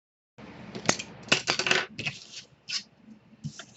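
Paper pockets for a Crealies mini album being cut, a short run of crisp snips and rustles in quick succession, close and moderately quiet, with no talking.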